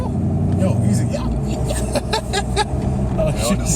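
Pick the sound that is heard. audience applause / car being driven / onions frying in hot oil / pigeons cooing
car being driven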